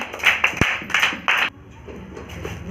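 Several sharp hand claps ring out in an uneven burst during the family party game 'five Pandavas in a box', close and fairly loud, then give way to quiet room tone.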